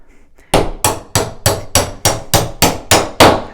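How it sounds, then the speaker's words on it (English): Ten sharp, evenly spaced hammer strikes ring out on a metal door hinge pin, loud and close, each blow followed by a brief ringing decay. "take your hammer,"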